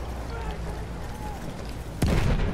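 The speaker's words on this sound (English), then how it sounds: "Someone's using an anti-tank gun on me." An anti-tank gun fires in Battlefield 1 with a single sharp, booming shot near the end, heard over low rumbling tank-battle ambience.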